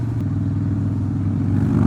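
Harley-Davidson motorcycle on a test ride, a close, steady engine rumble with a throbbing beat that swells slightly toward the end.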